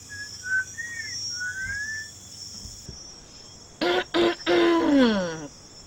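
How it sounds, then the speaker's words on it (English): A person whistles several short rising and falling notes, soft and somewhat distant over a faint background hum, then a few loud, close vocal sounds like a cough or throat clearing follow. "Did I just hear a whistle?"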